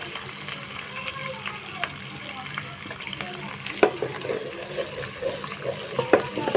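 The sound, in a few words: cumin seeds sizzling in hot oil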